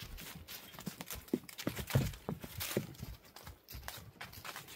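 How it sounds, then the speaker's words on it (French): Horse hooves clip-clopping over tree roots on a trail, a steady close series of hollow knocks and thuds with no talk over them. "Écoutez le bruit des sabots."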